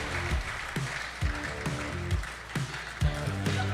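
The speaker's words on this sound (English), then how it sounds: "Let's give him a big round of applause." Audience at a pickleball event clapping steadily, a broad applause wash with sharper low thumps and a faint musical tone running underneath throughout.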